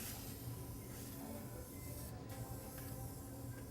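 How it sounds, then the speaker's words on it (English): Cooking spray hisses onto a pan in a home kitchen during a cooking session with kids, a steady close spray lasting a few seconds without pause. "and then we'll have you spray the pan"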